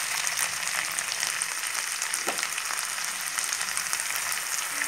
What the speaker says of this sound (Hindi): अब हम इसमें प्याज और टमाटर की हमने जो पेस्ट बना के रखी थी वो डाल देंगे।